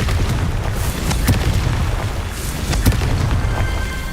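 A Confringo explosion spell in Hogwarts Legacy produces a loud, sustained booming roar with a few sharper blasts rising from the continuous rumble.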